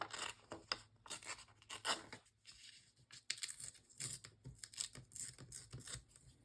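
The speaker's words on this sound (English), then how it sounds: "I'm just going to tear off a little bit of it on the bottom" Edge of a sheet of paper torn off by hand for a small Christmas tag album, a series of quiet close rasping rips and rustles in short bursts.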